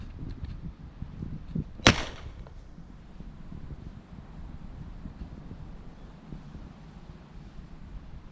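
A flare gun fires into the air outdoors, a single sharp, loud crack near the start over steady wind noise, followed by a long, faint hiss with no talk.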